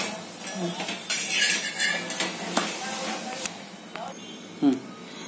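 Dhapate, a flatbread of wheat and jowar flour with a little gram flour, roasts in a pan, with a soft sizzle under scattered clinks and scrapes of a utensil against the pan.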